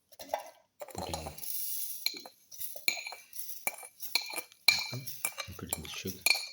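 Apple pieces drop into a grinder jar already holding dragon fruit, giving a run of short clinks and knocks with scraping handling noise between them, near and fairly quiet, with no talking.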